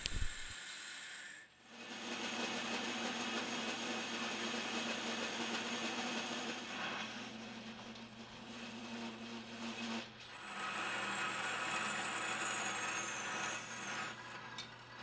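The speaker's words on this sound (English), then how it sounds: "Now I'm going to bore out the worm gear and cut it off" Lathe boring and parting off a worm gear in a scrap-built rotary table project: a steady grinding, scraping cut with a constant hum underneath, briefly pausing near the start and again around the ten-second mark.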